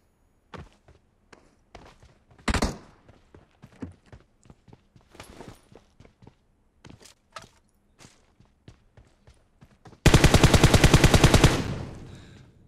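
Gunfire in the PUBG Mobile video game: scattered single shots and footsteps, then a loud rapid automatic burst of about two seconds near the end.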